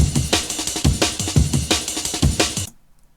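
Classic drum break loop, unprocessed: punchy kick, snare and hissy cymbals in a tight repeating groove, loud and close, cutting off abruptly to near silence.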